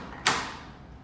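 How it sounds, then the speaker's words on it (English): A hotel room door in Las Vegas swings shut with a single sharp thud followed by a short fading rattle, close by, with no talking over it. "Close the door."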